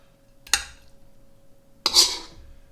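Two separate clinks of a utensil scraping against a dish as stir-fried squid with black beans is served onto a plate, close and crisp, with near silence between them.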